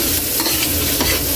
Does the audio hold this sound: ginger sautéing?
yes